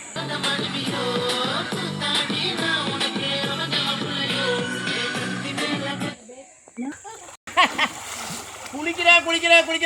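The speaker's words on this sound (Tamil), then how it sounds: "குளிக்கிறேன் காலையிலேருந்து குளிக்கிறேன்." Water splashes and sloshes as people bathe outdoors, with voices talking close by over the splashing for the first part and louder, irregular splashes standing out near the end.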